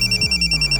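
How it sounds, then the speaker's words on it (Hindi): A telephone rings with a steady electronic warble, loud and close, in an indoor office scene, pulsing in quick even bursts with no talk. "सर नागपुर से शकील का फोन है।"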